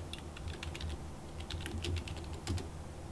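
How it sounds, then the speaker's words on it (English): Quick, light keystrokes clatter on a computer keyboard, a soft, irregular patter of clicks heard close and alone. "We would just start typing right down here to get to the command prompt."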